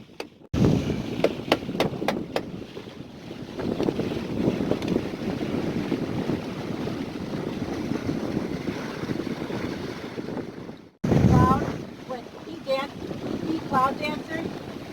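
Wind rushing over a sailboat on the water off Maine, loud buffeting gusts across the microphone with water sloshing beneath, a brief drop-out midway, then returning strongly.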